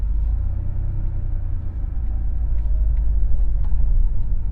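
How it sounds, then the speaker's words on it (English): A warmed-up classic Porsche 911 reverses out of a driveway, its engine giving a low, steady, close rumble at gentle idle-level revs with no talk over it. "let the clutch out. I'm reversing out of the driveway."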